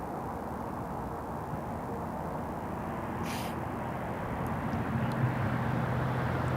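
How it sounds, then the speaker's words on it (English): A Royal Jordanian Boeing 787-8 Dreamliner airliner flies over with a steady, broad engine roar that builds slightly toward the end, heard alone at moderate distance. "So once again, Royal Jordanian 271 from Montreal, 787-8 Dreamliner."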